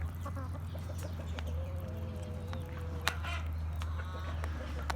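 Chickens and a rooster cluck softly inside a coop over a steady low hum, with scattered calls and faint clicks at moderate distance.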